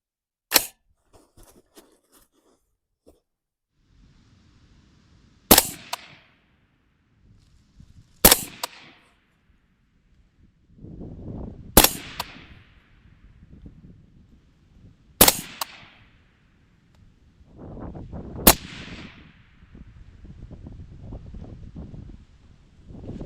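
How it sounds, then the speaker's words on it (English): Six loud, sharp rifle shots from an AR-platform rifle crack out at an outdoor range, spaced roughly three seconds apart, each with a short ringing decay, with light wind and faint handling noise between them. "let's go ahead and fire this rifle up"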